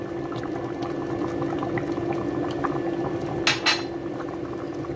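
Mung bean soup simmering in a pot, a steady close bubbling boil throughout with a brief metallic clink of a utensil near the end and no talk.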